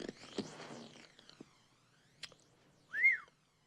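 Someone whistles by drawing breath inward, producing one short, rising-and-falling wheezy note after faint breathy rustles in a quiet indoor space.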